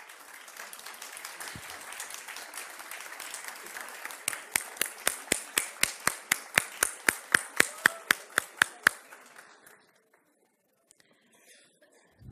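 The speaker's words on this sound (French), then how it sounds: "je vous demande de les applaudir" An audience claps for a group asked to stand: a mixed patter of clapping builds into loud, evenly spaced unison claps, then stops abruptly into near silence.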